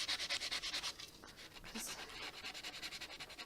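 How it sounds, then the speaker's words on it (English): Sandpaper scratches on a crafting surface in quick, regular rubbing strokes, faint and close, with a brief pause before the rhythmic sanding resumes. "All you're going to be able to hear at the moment is this sandpaper scratching"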